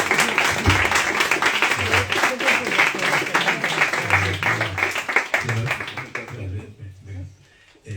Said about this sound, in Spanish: pediros que lo recibamos con el aplauso que se merece.